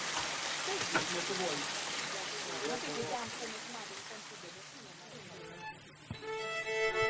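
Steady rain patters throughout, a dense hiss of drops, with voices talking faintly underneath and a brief tonal ringing near the end.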